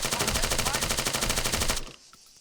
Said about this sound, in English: Let's just keep shooting him.